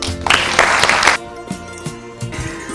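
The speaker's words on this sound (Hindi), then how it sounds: "जोरदार तालियों के साथ गजाला जी।" A studio audience breaks into applause to welcome a guest onto the stage of an anti-addiction show, a dense burst of clapping for about a second before it fades under background music.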